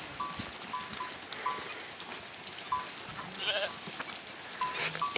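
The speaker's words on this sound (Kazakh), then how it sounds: "Сол лағын іздеп маңырап тұр." A goat whose kid has died bleats repeatedly while searching in a sheep farm enclosure, several distinct calls at moderate distance over faint background farm noise.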